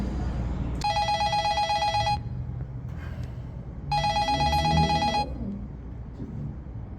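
A telephone rings in two loud, evenly spaced bursts separated by a short pause, over low background room noise in a short drama scene.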